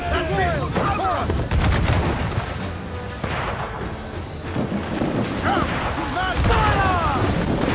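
Ship cannons in Assassin's Creed 4 fire in heavy repeated booms during a naval battle, loud and rumbling, mixed with shouted commands and chaotic battle noise throughout.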